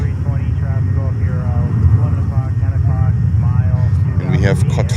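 A JetBlue Airbus A320 departs New York, its engine roar steady and loud under continuous nearby talk.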